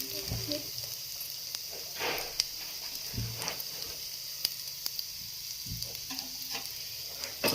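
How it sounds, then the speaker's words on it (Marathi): Okra roasting in oil in a pan gives a soft, steady sizzle, with occasional stirring scrapes and light clicks of the spoon against the pan, heard up close but fairly quiet. "इथं भेंडी तेलामध्ये छान अशी भाजून घेतली"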